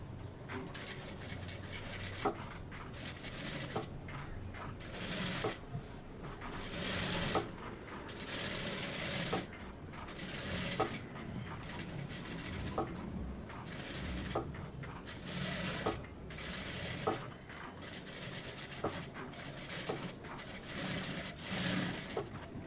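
A sewing machine stitches the neckline of a chudidar, running near and continuously in short rattling bursts with clicks of the mechanism, pausing briefly between runs.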